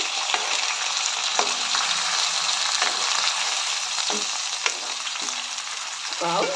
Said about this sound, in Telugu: ఓకే, ప్రాపర్గా మిక్స్ చేయి.